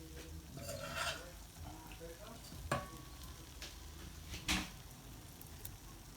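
Chicken added to a pot of biryani masala for chicken tikka biryani, a quiet steady sizzle with scattered clatter and a few louder knocks from the pot and utensils, no voices.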